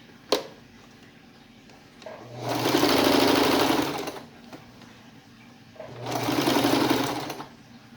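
A sewing machine runs two steady bursts of stitching along the edge of apron fabric with fuxico and lace trim, each lasting about two seconds with a quiet pause between, close and clear with no talking.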